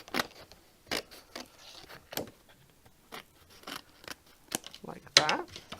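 Scissors trim around the edge of a piece of foil card in short, quiet snips and crisp rustles, close by, with pauses between cuts and a slightly louder scrape of paper handling near the end.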